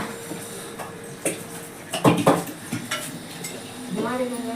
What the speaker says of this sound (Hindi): बर्तन भी साफ हो जा रहे हैं